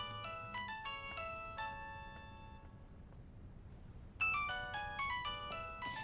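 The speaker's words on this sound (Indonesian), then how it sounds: "Ada telepon." A telephone ringtone plays a bright melodic electronic tune in two bursts with a brief pause between them, fairly quiet against a faint room background.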